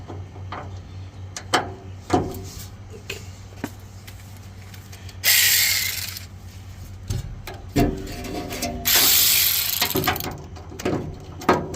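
A ratchet with a 5/8 deep socket works on the bump stops of a 2004 Chevrolet Silverado, giving scattered clicks and clunks plus two longer bursts of fast ratcheting, all close by.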